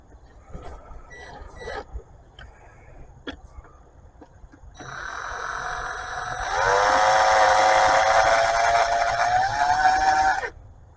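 A power tool bolts down the oil cooler housing on a 2013 Dodge Journey, starting after a few scattered clicks and knocks, then a sustained whirring buzz that grows louder and holds for several seconds before stopping.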